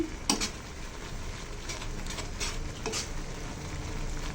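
Noodles cooking in a pan at home, a soft steady sizzle and stirring with a few sharp clanks of a utensil against the pan, close and continuous with no talking.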